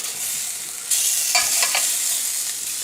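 Potatoes fry and sizzle in hot fat with a steady hiss, while a spoon turns and bastes them in a few soft scraping strokes. No one speaks.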